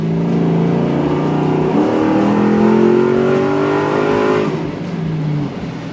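A 1977 Pontiac Trans Am with an LS3 V8 swap and stainless dual exhaust revs loudly and steadily, engine pitch climbing and falling across several seconds before settling back toward idle.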